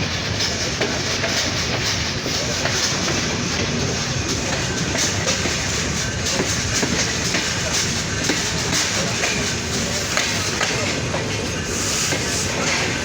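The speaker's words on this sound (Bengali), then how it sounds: "ঢাকাগামী আন্তনগর ডাউনহিল সাগর এক্সপ্রেস ট্রেনটি ফুলবাড়ি ইন করলো" Downbound Nilsagar Express intercity train pulling into Phulbari station, a steady loud rumble of wheels and carriages with rhythmic clatter throughout, close by and continuous with no talk.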